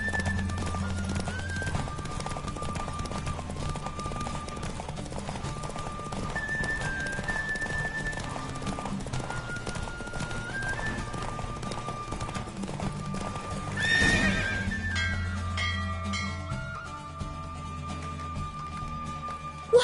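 Galloping horse hooves in a race in the video game The Witcher 3, a fast steady clip-clop rhythm running close and loud under game music, with a brief whinny and a rush near the end.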